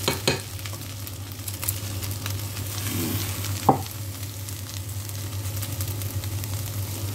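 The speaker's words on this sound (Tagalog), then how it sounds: "Ipiprito ko lang siyang ganyan," Brown rice sizzles and gets stirred in a frying pan, a steady crackling sizzle with a few scraping stirs and one sharp clank of a utensil partway through, under a low hum.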